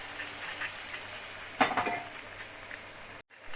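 Frying spices and potatoes for aloo dum crackle with a steady sizzle, then a short burst as a little water rinsed from a mixer jar hits the pan, before a brief cutoff.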